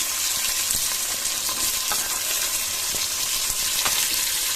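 Chopped onions fry in oil for avarekalu shavige uppittu, giving a steady close sizzle with occasional stirring clicks and no talk.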